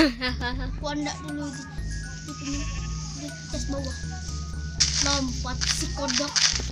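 Goat bleating in the video game Minecraft, several short wavering bleats scattered through the clip, heard over background game music and excited conversational talk.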